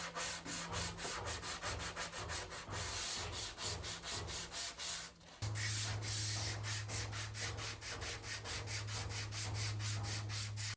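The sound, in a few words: sanding wood furniture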